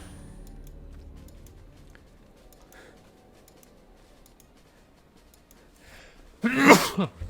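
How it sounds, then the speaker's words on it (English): A single loud, close sneeze bursts out near the end, after several seconds of quiet room noise with faint ticking. "I fucking start sneezing like crazy."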